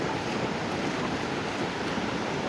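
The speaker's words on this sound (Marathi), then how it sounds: "आणि किती खतरनाक लाटा येत आहे बघा." Rough sea waves pound Anjarle Beach on the Konkan coast, a dense, continuous roar of surf close to the microphone with a windy hiss and no voices.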